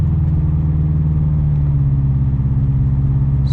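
A Subaru car with a Cusco strut bar drives along a winding road, its engine humming steadily from inside the cabin at a moderate level, with no talking.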